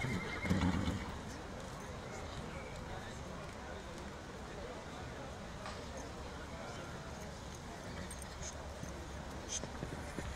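A five- to six-week-old foal, out with a sale horse at an auction lot presentation, whinnies loudly near the start, then hooves clop steadily under a continuous busy background of crowd noise and talk.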